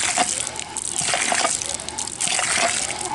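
Water drawn by a hand pump from a newly jetted shallow well gushes and splashes steadily, loud and close, in surging pulses with no voices over it.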